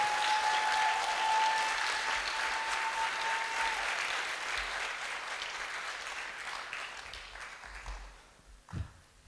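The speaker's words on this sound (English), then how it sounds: "Please give another round of applause for these amazing people that were just playing some" Audience applause for musicians at a live game awards show, a broad sustained wave of clapping that gradually thins and fades, with a held tone lingering at the start.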